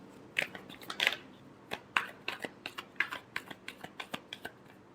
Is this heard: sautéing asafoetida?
no